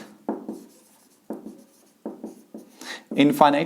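Someone writing a maths formula during a lesson: four short bursts of scratchy pen or chalk strokes separated by brief pauses, close and clear, followed by a voice starting to speak at the end.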